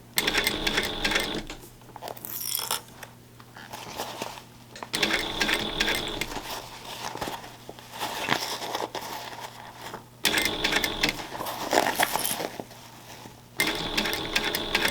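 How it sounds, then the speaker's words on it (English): Sewing machine stitching a backpack gusset to the front panel, loud close bursts of rapid mechanical stitching, several runs a few seconds long separated by short pauses. "I've got the front panel and gusset sewn together."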